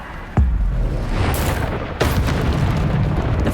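Two heavy booming explosions from the Bombarda spell in Hogwarts Legacy, each a sharp loud blast followed by a rumbling, crackling tail, the second hitting about one and a half seconds after the first.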